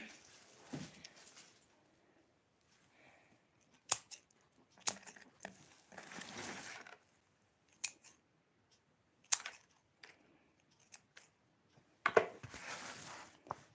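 Scissors trimming something at a table, heard as scattered short snips and crisp cuts spread across the stretch, fairly faint, with occasional light rustling and no talk.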